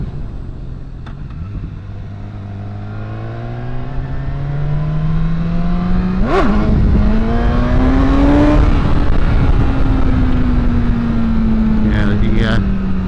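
BMW S1000R motorcycle engine on a first ride, revving up in rising pitch sweeps with a sharp throttle blip midway, loud and close over wind rush.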